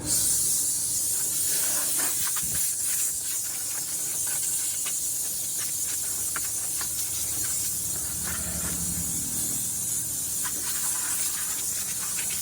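Soap solution sprayed in a steady, continuous hiss while cleaning the aircon of a 2015 Toyota Innova, close and fairly loud throughout with no pauses.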